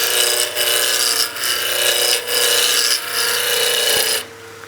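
A round-edge skew chisel peel-cuts across a wooden spinning top on a lathe, giving a close, loud rasping scrape in four long passes with brief dips between them, then stopping.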